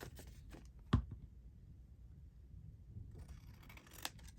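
Scissors trim paper for a pocket-with-window flip craft card, with one crisp, close snip followed by quiet rustling and a fainter second cut near the end.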